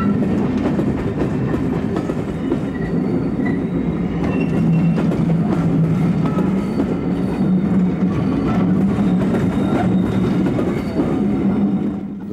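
A preserved E5000 class electric locomotive hauls a special train on the Southern lines at Dover Marine, giving a loud, continuous rumble with rhythmic clickety-clack of wheels on rail joints and occasional faint squeals, with no talking.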